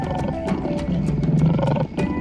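A male lion roars close and loud in one sustained, deep, rasping call lasting about two seconds, with a few sharp clicks over it.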